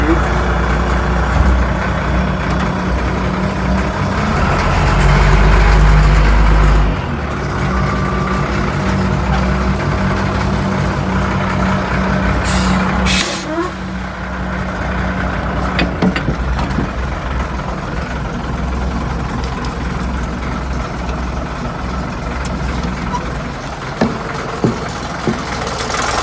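A Caterpillar 980B wheel loader's diesel engine runs steadily at close range, with a louder surge of low rumble around the seventh second before settling back to an even idle-like drone for the rest.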